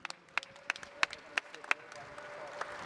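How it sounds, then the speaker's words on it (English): Scattered clapping at a post-fight boxing press conference after Andre Ward beat Carl Froch: a handful of separate, sharp claps at an uneven pace from a small crowd, with quiet room noise beneath. "Let me give a big round of applause to James Prince."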